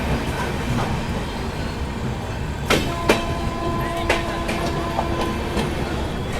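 Vaishali Express train pulling out of a station after a short halt, with a steady rumble and clatter of wheels, metallic squeals and clanks, heard from inside the carriage.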